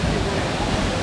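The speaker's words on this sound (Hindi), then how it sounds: "बड़ा ही खूबसूरत वाटरफॉल है" A hidden waterfall near Mukteshwar, Uttarakhand, with green water, gives a loud, continuous rushing roar, close and unbroken throughout the short stretch.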